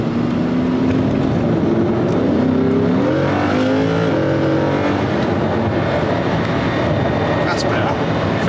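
A rented Lamborghini accelerates on a UK road, its engine note rising through a gear change and holding a loud, close, sustained roar with road and wind rumble beneath.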